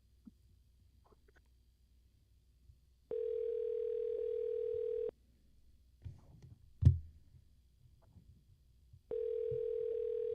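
An outgoing phone call produces a steady ringback tone: two long, even buzzing tones about two seconds each, separated by a quiet gap with a few soft handling knocks, heard faintly over a line.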